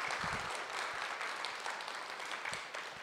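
A church congregation claps together during a Sunday afternoon worship service: a steady, dense wash of applause that holds for about three seconds and thins slightly near the end, with no voices over it.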